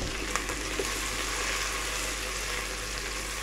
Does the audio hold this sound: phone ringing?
no